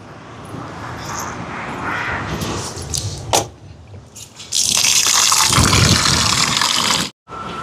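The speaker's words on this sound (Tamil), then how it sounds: "அரிசியை கழுவி கொண்டு வரும்" Rice washed with water while cooking a vegetarian almsgiving meal in Jaffna: a steady gush and splash of water into a vessel, broken by a brief lull and a short gap, with no talking.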